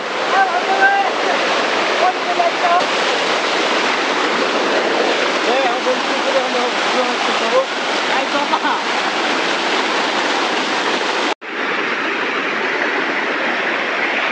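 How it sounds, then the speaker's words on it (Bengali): A waterfall at Kanching Park in Malaysia roars in a steady, loud, broad wash of falling water that continues without pause, with faint voices briefly audible beneath it. "এই সে ঝর্ণা"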